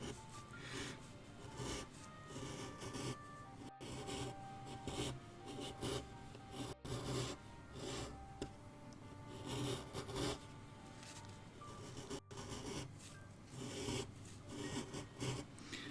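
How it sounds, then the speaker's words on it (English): A V gouge chisel cutting a line into a wooden owl carving, with continuous close rasping and rubbing strokes, a few brief pauses between passes, quiet and alone. "So using a V gouge here, it kind of allows me to draw a line"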